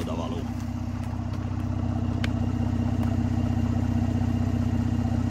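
Mercedes-AMG C43 Coupe engine running steadily with a deep, constant drone and a few faint clicks, loud throughout.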